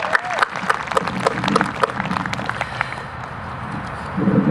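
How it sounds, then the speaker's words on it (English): Applause from a graduation ceremony audience for the student speakers, a steady crowd clapping throughout, fairly loud and dense, thinning slightly toward the end. "One more round of applause for our student speakers"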